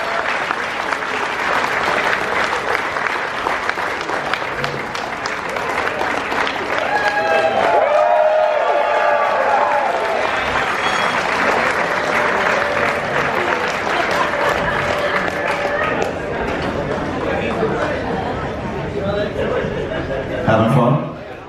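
A crowd applauds loudly and steadily for Justin Hayward at a Q&A aboard the cruise ship NCL Pearl, with some cheers and scattered laughter mixed in, fading slightly toward the end.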